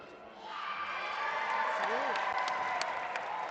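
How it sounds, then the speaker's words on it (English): Spectators at a girls' high school basketball game clap and cheer, a loud steady wash of crowd noise with a few whoops rising over it and brief voices mixed in. "Coach Hayes appreciates the hand clap"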